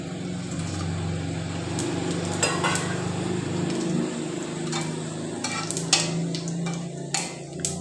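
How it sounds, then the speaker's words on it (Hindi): Whole nutmeg, bay leaf and star anise roast in a pot for pulao, giving a soft, steady sizzle broken by occasional stirring scrapes and light clinks against the metal. "इसको हम बस 1 मिनट तक रोस्ट करेंगे।"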